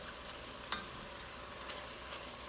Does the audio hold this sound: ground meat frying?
yes